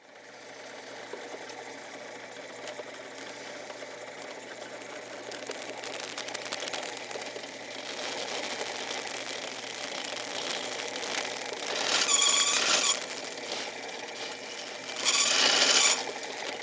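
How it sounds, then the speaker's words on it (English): A tapered reamer works holes in brass knife bolsters for a dagger, giving a steady faint scraping, whirring cut at close range, with two louder, brighter bursts near the end and no talk. "We'll go ahead and ream these holes with a tapered reamer."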